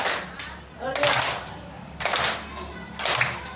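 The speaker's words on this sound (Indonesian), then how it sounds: "Kita sama-sama tepuk tangan dulu." A third-grade class of children claps hands together in three crisp group bursts about a second apart, fairly close, with faint voices in the room.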